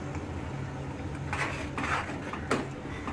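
Tamarind, curry leaves, green coriander and spices are stirred in a pot for a Hyderabadi mutton gravy, a few soft scraping clinks of a spoon against the pot over low background hum, with no talk.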